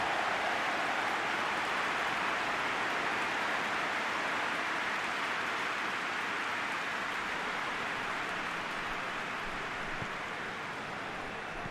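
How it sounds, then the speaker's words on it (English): Steady rain in the football video game PES 21 hisses evenly throughout, a constant wash of falling drops without pauses. "Rain starting to fall here."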